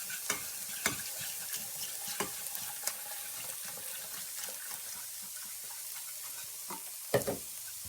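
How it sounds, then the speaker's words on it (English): A roux for a redwood-infused bechamel bubbles and sizzles as milk is poured in and whisked, with a steady crackle broken by several sharp whisk clacks against the pan and no talking. "when you pour your milk in, the roux is going to bubble up like crazy"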